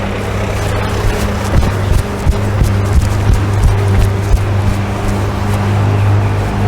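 Loud engine roar of a Lamborghini supercar driving past on a street, a steady low rumble with brief louder surges throughout.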